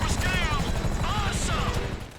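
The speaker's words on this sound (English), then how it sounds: "I decided to shoot down the helicopter" A helicopter in the game GTA 5 comes under fire and is shot down, its rotor drone steady and close under bursts of gunfire and whooshing, with a voice talking over it.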